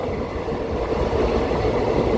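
Madurai Intercity Express passenger train running on rails between Coimbatore and Madurai, a loud, steady, close rumble of wheels and carriage noise throughout, without talk.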